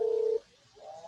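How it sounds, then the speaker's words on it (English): A mobile phone ringing unexpectedly while a couple recounts their daughter's birth: a steady electronic ring tone sounds loud and close for a moment, stops, then returns more faintly, with no talking over it. "whose phone is going off right now?"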